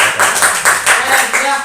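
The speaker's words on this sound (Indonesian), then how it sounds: "Oke, tepuk tangan dulu." A group of students claps in a classroom, with short bursts of hand claps at a fairly even, rhythmic pace, loud and close, and no talk over them.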